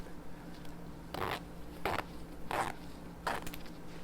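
A zipper on a soft jogger pants pocket pulled in four short separate strokes, close up and crisp against quiet background hiss, no talking.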